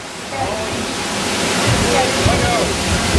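Steady rushing water fills the clip, a loud broadband roar that swells slightly as a boat on the Maelstrom ride at Epcot plunges over a drop, with faint voices underneath.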